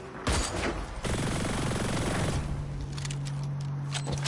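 Rapid gunfire in the video game Hyperscape crackles in a burst of quick shots, followed by a sustained tone and scattered clicks, fairly loud and without speech.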